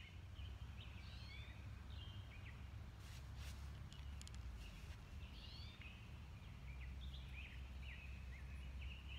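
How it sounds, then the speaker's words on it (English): Faint bird song outdoors, scattered short chirping phrases from a few birds at a distance over a low rumbling background, with a couple of brief clicks midway. "Can you hear the birds?"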